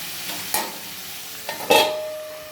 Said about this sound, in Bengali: সবজিগুলো দিয়ে একটু নাড়াচাড়া করে দেবো